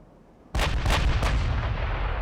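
Naval artillery fire in the warship battle game Ultimate Admiral: Dreadnoughts, with USS Iowa facing a Japanese battleship: a sudden loud boom opens a rolling barrage of heavy gun blasts that thunders on without any talk.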